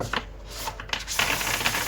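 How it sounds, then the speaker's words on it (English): Cards being shuffled from a large oracle deck, with a run of quick riffling clicks and slaps that grows denser and steadier in the second half, close and fairly quiet. "sorry, it's a bad shuffle. Okay, this ocean deck is so big."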